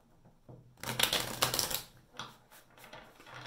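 Tarot cards riffle and slap together in a couple of quick shuffling bursts, close and crisp, with no talking.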